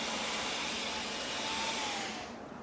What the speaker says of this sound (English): Looks like we found a car vacuum.